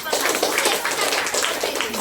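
Loud, brisk hand clapping in a rapid run of sharp claps, heard close and mixed with people talking.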